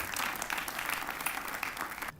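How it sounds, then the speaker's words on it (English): An audience at an AIPAC reception for Judea and Samaria applauds with a dense, even wash of clapping that runs about two seconds and then stops abruptly. "They all deserve a round of applause"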